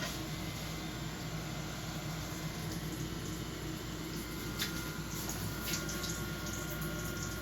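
Coolant floods steadily inside a PCNC 440 mill enclosure, a continuous loud wash of splashing liquid and pump hiss with a few brief higher spatters near the end.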